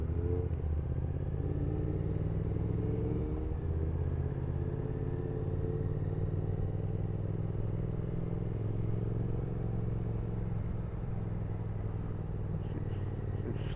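A Triumph Speed Twin motorcycle on the move, a steady low engine drone with wind rumble sustained throughout, continuous and fairly close without talk.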